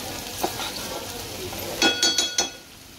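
Onion frying in a pan for an Agri-style shevla vegetable curry, a steady soft sizzle throughout with a few sharp stirring scrapes and clinks near the end, no talking.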